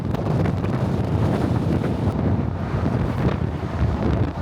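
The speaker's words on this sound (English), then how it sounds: "Oh, it's quite windy here." Strong wind roars steadily into the microphone on Prince Edward Island, Canada, a constant heavy rumble and buffeting with no voices.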